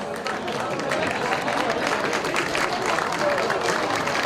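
Audience applause at a televised award ceremony celebrating a magazine's tenth anniversary and best of 2015, a steady dense clapping wash with crowd noise that holds evenly from start to finish.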